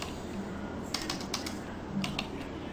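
Light, scattered keystrokes on a computer keyboard as a URL is typed, faint and close, a handful of soft clicks over a steady background hiss with no talking.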